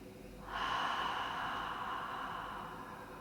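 A single long, breathy exhale through the mouth during a yoga breathing exercise, starting after a brief pause and holding steady as a soft, close rush of air that fades slowly.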